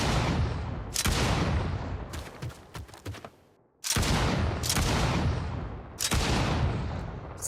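Bursts of automatic gunfire from a Vietnam-era first-person shooter game, loud and close, arriving in long sustained volleys with brief gaps and a short stuttering run of shots between them.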